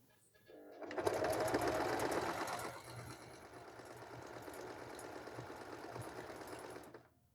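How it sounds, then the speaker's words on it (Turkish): Singer M3335 household sewing machine running a straight stitch with high thread tension, a close whirring run of about six seconds that starts loud and then settles slightly quieter. "İğnemi indiriyorum. Ve pedala basıyorum."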